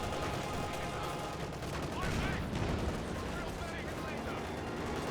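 Gunfire in the World War II strategy game Company of Heroes 2, with dense, continuous overlapping shots and bursts forming a loud, unbroken battle barrage.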